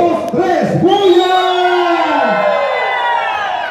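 Wedding guests at a banquet hall cheer, whoop and howl loudly together, a dense burst of crowd voices swelling in pitch and holding steady for several seconds.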